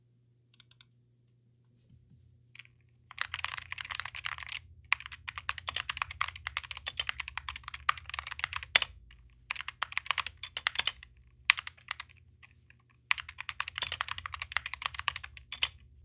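Rapid typing on an SK64/GK64 mechanical keyboard in bursts separated by short pauses, crisp clacky keystrokes with an occasional heavier thock and spacebar rattle, close and alone over a low steady hum.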